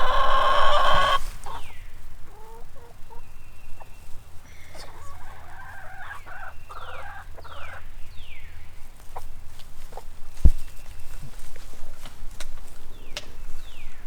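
Backyard chickens cluck and call in short bursts, moderately close, with scattered quieter bird sounds and background farmyard noise between them.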